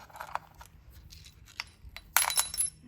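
Small metal standoff dropped into a Datsun 280Z engine bay, giving a few light metallic clinks and a brief rattle at close range, with faint low background hum.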